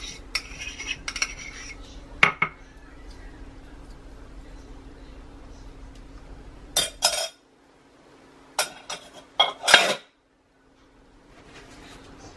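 Sugar and lard beaten together by hand in a bowl, with intermittent scraping and clinking of a utensil against the dish in short bursts, separated by quieter stretches.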